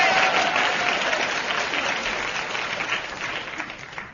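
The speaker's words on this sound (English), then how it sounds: "Poses for audience applause" Studio audience applause at a British radio comedy show, the Goon Show, as a steady burst of clapping that fills the whole stretch and fades only slightly toward the end.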